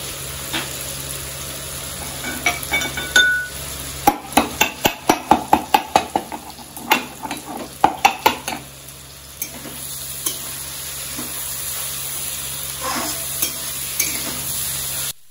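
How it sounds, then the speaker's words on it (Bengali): Mixed vegetables for vegetable chowmein frying in a pan, a continuous sizzle punctuated by a quick run of sharp, close spatula knocks and scrapes as they are stirred, then steadier frying with occasional clinks, no speech. "সবজিগুলো একটু ভাজা ভাজা হোক"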